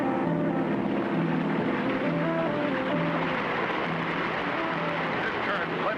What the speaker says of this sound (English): We'll keep the engine running to force us against the current and hold us from going over the falls.